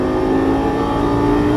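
A Lamborghini Gallardo LP550-2 accelerates at full throttle, a loud, steady, close engine roar that holds strong with rising harmonics throughout, no voices.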